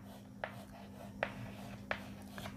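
Pen or chalk writing out English sentence letters during a lesson, heard as a few faint, separate scratchy strokes against a quiet room hum.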